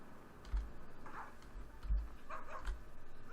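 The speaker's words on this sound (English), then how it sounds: "But that incessant barking just keeps on and on and on." A dog barks repeatedly in Farming Simulator 15 on the Gorzkowa map, three or four muffled, low barks spaced about a second apart over faint ambient ticking.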